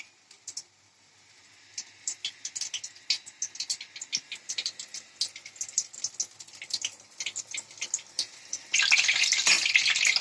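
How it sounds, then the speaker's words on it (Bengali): Battered bok flower fritters deep-fry in hot oil, with rapid crackling pops and bubbling bursts that grow louder and denser, ending in a strong continuous sizzle. "ডিপ ফ্রাই করে নেব।"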